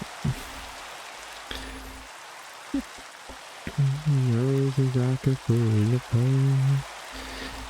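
Steady rain hisses throughout in the Minecraft video game, a broad continuous wash, while a voice talks over it for much of the clip.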